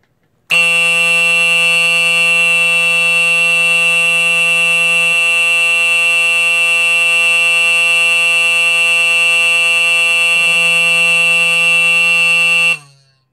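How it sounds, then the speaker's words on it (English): An Edwards GS 895B-301 fire alarm horn blares in a single loud, steady electronic tone held for about twelve seconds before cutting off. "Let's go ahead and test the horn out here."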